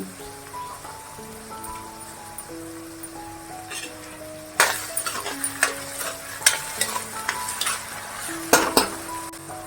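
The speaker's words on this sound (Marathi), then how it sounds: "कांदा शिजण्यासाठी थोडस मीठ घातलंय आता मी कढीपत्ता घालते" Curry leaves hit hot oil with onion and salt for Kolhapuri misal, bursting into crackling, spattering sizzle at the midpoint over a softer background fry, with a few scrapes of stirring, close by.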